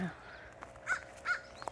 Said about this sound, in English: Listen to that crow yell at me because I'm getting close to his tree.